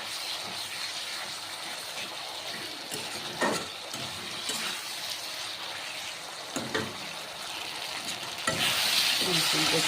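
Mustard powder and two green chillies stir-fry in a pan, a continuous soft sizzle with scraping stirs and brief clatters, growing louder near the end.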